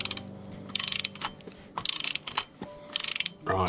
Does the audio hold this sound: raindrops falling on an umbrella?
no